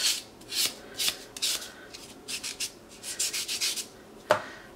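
A buffer rubs back and forth over a builder gel nail after filing, giving short, close, scratchy strokes in uneven bursts, with one sharper scrape near the end.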